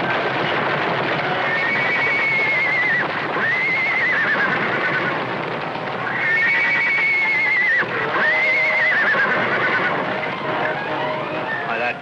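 A stallion and a herd of horses gallop and neigh in a canyon valley, with repeated shrill whinnies rising over a dense, continuous rumble of hoofbeats.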